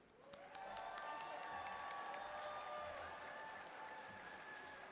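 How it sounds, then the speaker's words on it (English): Large indoor audience at a disability services day event in a state capitol building gives steady, sustained applause with scattered cheers for a state representative, the clapping dense and fairly distant, continuing without pause for several seconds. "Please join me in giving a huge round of applause to Representative Curran"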